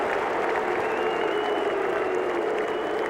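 A football crowd at a North Melbourne versus Brisbane match in 1998 applauds at the end of the first quarter, a steady wash of distant clapping and crowd noise.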